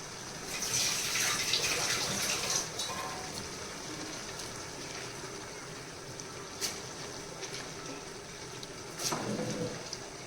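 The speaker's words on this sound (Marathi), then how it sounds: "मित्रांनो, आता आपण ह्यामध्ये तांदूळ टाकणार आहोत." Rice poured into a pot of half-cooked chicken for chicken pulao, a rushing hiss that comes in a few bursts, with scattered clinks and quieter stretches between.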